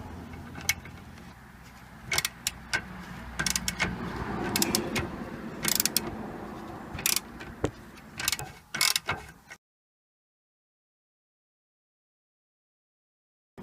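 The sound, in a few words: socket wrench removing 18mm strut bolt on BMW E46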